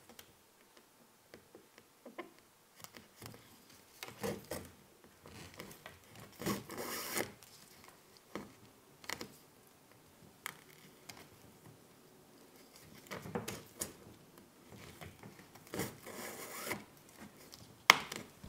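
Hand stitching a long bifold leather wallet with back stitches gives faint, irregular ticks and rasps as thread and needle are pulled through the leather, recorded close up with no talking.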